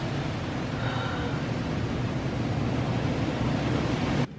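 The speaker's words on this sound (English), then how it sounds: "Listen to all of the things hitting the windows. It is so windy" Strong wind roaring outside a house on a stormy day, a loud, steady broadband rush that continues throughout and cuts off abruptly at the end; separate impacts of debris hitting the windows are not distinguishable.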